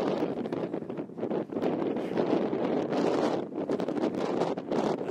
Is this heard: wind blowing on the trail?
yes